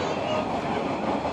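Interior ride aboard the Molli narrow-gauge railway heading toward Bad Doberan at about 40 km/h: a steady rumble and rolling wheel noise fill the carriage, continuous and close.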